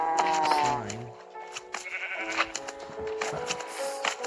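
Sheep bleating in the video game Minecraft Earth, a few short wavering bleats near the start among other farm-animal and ambient game sounds, with some talking.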